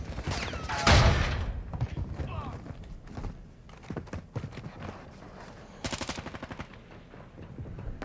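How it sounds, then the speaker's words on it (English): Gunfire in the video game Modern Warfare 2 crackles in a couple of rapid automatic bursts, one early and another near the end, with scattered shots in between, sounding moderately distant. "Oh, I hear gunfire here."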